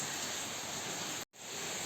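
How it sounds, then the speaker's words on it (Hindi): Heavy monsoon rain pours down steadily during the Harela festival in Uttarakhand, a dense, even hiss that fills the scene and briefly cuts out for a moment before resuming. "उसके बाद फिर से इतनी तेज़ बारिश हो गई है"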